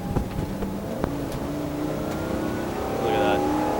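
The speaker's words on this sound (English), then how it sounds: "The motor runs. The motor is so smooth." Engine of a 2000 National Tropical motorhome with 21,000 miles running smoothly, a steady low engine drone with a slight rise toward the end, with someone talking over it.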